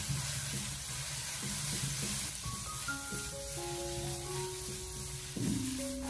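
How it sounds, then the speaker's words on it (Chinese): Minced pork with chopped garlic and dried red chili stir-fried slowly over low heat in a wok, giving a steady close sizzle with scraping stirring strokes throughout. "接着再把切好的蒜粒还有干红辣椒放进来，再继续的开小火将它慢慢的翻炒一下"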